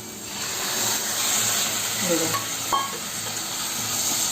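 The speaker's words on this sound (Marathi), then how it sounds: "आणि ही जी कालवं साफ करून घेतली आहेत ती कालवं याच्यामध्ये घालणार आहे." Cleaned clams drop into a hot pan of spiced masala with homemade garam masala. A steady, loud sizzle and hiss continues while the mixture is stirred, with a few scraping clicks of a spoon against the pan.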